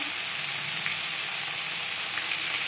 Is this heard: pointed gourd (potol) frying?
yes